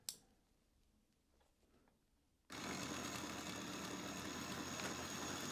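A small electric motor in a Mini Planet model kit suddenly whirs to life after a quiet pause and a click, then runs at a steady, even buzz.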